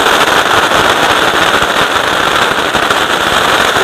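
A Rock Star firecracker from Sivakasi bursts in a dense, continuous crackle, loud and steady for several seconds, like rapid popcorn popping.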